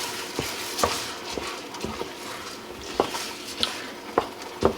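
Israeli couscous being stirred around in a pan of boiling liquid, with a soft steady bubbling bed punctuated by repeated scraping and tapping strokes of a utensil at an irregular rhythm.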